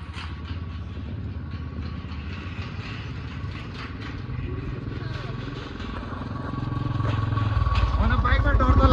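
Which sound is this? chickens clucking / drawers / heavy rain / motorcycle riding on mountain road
motorcycle riding on mountain road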